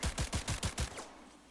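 A rapid burst of about six loud gunshots from the Skippy gun in a video game, evenly spaced, then a fading tail with no talk.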